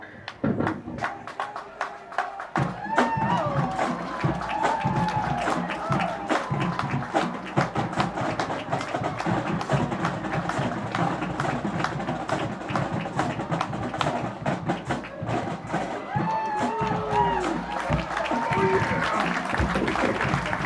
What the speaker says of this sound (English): How about another round of applause for the Lincoln High School Marching Blue Band?